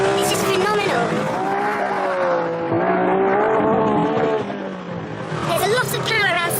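An M400 track car's engine pulls hard under acceleration, a loud, near, rising and falling growl with shifting harmonic tones, while someone talks over it.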